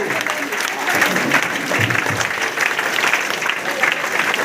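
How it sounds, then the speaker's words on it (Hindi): At a meeting in Basti, a crowd claps steadily, the loud, dense patter of many hands sustained throughout with small surges, while a voice may be faintly present beneath it. "तालियां बजनी चाहिए जबरदस्त आप लोगों की।"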